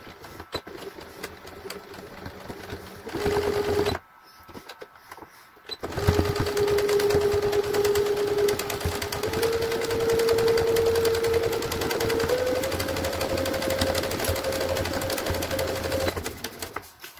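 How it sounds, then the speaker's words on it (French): A sewing machine stitches forward and then in reverse while sewing a fabric cone urine shield for a baby, giving a steady close whirring hum that stops briefly midway before resuming. "Pareil en fait couture, marche avant, marche arrière."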